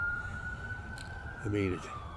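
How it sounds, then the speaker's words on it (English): A distant ambulance siren holds a steady, slowly falling wail over low traffic rumble, with a brief muffled noise partway through. "Ambulances all day, every day."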